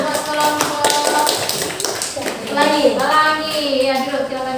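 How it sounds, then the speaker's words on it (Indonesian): A classroom group claps hands in a short burst of close, sharp claps, then children's and adults' voices take over. "beri tepuk tangan buat kelompok"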